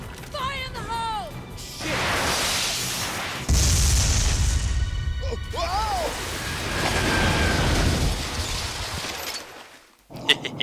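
A grenade blows up in the video game Binary Domain with one loud boom partway through, set among clattering mechanical game noise and synthetic voices.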